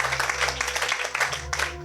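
A church congregation claps and applauds together in a steady, dense patter for a couple of seconds.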